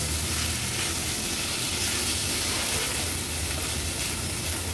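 Rice with peas and carrots sautéing in ghee over a medium flame, a steady close sizzle with a soft frying hiss that holds evenly throughout, no voices.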